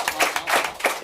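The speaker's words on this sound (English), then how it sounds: "A big round of applause for" Clapping from a small audience at a public talk on levelling up local communities, a handful of distinct, uneven claps close by in a brief, sparse burst.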